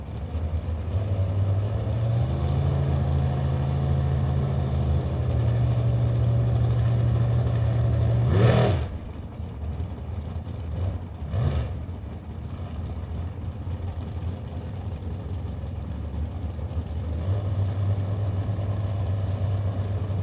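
Two drag racing engines idle with a low, lumpy rumble: a small-block Chevrolet roadster and a 2007 big-block rear-engine winged dragster. The idle is broken by two brief, sharp revs midway.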